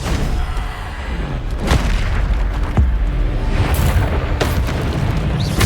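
Spell blasts in the video game Hogwarts Legacy boom one after another in a rapid, loud barrage of explosive bursts and sharp impacts, with no talk.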